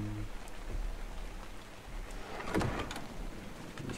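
Rain falls steadily in the video game ARK, a dense even patter near a small campfire, with a brief louder swish in the middle.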